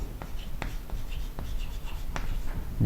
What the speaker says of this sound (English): let me write definite